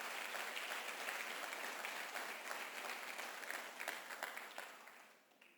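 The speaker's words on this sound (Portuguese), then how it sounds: "Você pode aplaudir o nome de Jesus?" A church congregation applauds during a sermon, a steady wash of many clapping hands at moderate distance that holds for several seconds and then thins out toward the end, with no voices over it.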